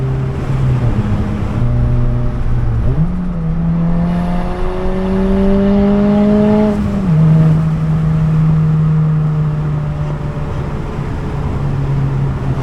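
Car with modified motor mounts driving under load, a loud steady engine drone with a pitch that climbs through the gears, shifts, then settles into an even cruise; no talking.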